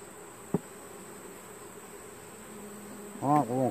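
Honey bees hum faintly around an open hive, a soft buzzing bed broken by a brief sharp click and a short burst of louder voice-like sound near the end.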